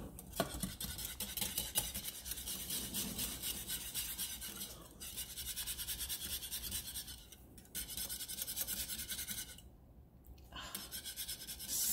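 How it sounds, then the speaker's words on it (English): Lemon meringue pie filling whisked in a pan on the stove, a fast continuous scraping rasp of the whisk against metal, close and steady with two brief pauses. "And you really, really want to whisk this."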